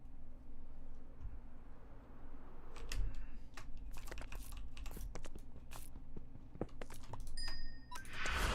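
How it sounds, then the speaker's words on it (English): Keys on a computer keyboard clatter in irregular bursts of sharp clicks, close and fairly loud over a steady low background hum, with a brief louder rustle near the end. "Man, my typing is great."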